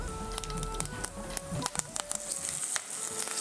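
Curry leaves sizzle and crackle in hot tempering oil with mustard seeds, cumin and asafoetida, giving a dense, continuous spatter with sharp pops throughout.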